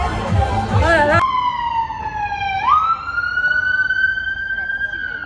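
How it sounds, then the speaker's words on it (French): A police siren wails close by on a Prague street, preceded by a burst of noisy traffic and voices, then a steady rising and falling tone that holds loud and clear. "Il y a eu beaucoup de sirènes comme ça."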